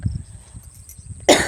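A single sharp cough from someone with a cold and cough bursts out near the end, after a stretch of quiet low rumble.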